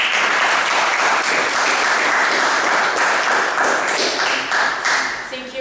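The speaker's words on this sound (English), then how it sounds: "a warm applause to Anna Luisa" Steady audience applause for a table topics master at a speaking club meeting, a dense continuous wash of claps throughout that tapers slightly at the very end.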